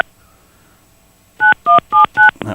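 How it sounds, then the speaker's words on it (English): Telephone keypad dialing tones on a radio broadcast: four clipped, loud DTMF beeps in quick even succession after a brief silence, with no talk over them. "You would think I would know how to dial a phone"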